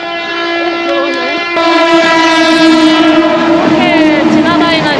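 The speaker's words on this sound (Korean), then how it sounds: "전철이 와요." A commuter train arrives at a Mumbai station, sounding a long, loud, close horn blast over rumbling wheels and rail clatter that continues throughout.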